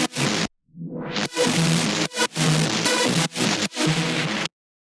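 Resampled hardwave synth lead run through an Infiltrator effect: chopped, stuttering bursts of dense, noisy tone with a rising sweep, separated by abrupt gaps of silence, loud and up front.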